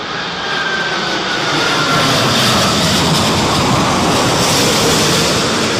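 An airplane landing at Heathrow airport during Storm Isha, its engines a loud, continuous broadband roar that swells slightly, blended with gusty wind noise and no talk.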